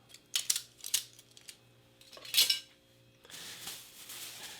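A metal fork, spoon and knife from a Belarusian 24-hour combat ration pack being handled, giving sharp close clinks and jingles in short clusters, then a softer rustle at the end.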